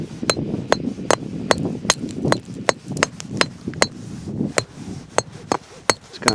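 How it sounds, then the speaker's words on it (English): A hammer chips the edge of a freshly split stone, giving a rapid series of sharp, ringing clinks at an irregular rhythm, close and fairly loud over a low background rumble. "I just take the hammer and kind of chip it so it gives it a, a rough edge."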